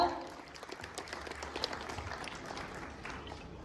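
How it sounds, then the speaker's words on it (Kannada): Applause from a crowd at a film pre-release event, soft and distant, a steady patter of many hands clapping that fades slightly over a few seconds. "ಒಂದು ದೊಡ್ಡ ಚಪ್ಪಾಳೆಗಳ ಮೂಲಕ ಸ್ವಾಗತ"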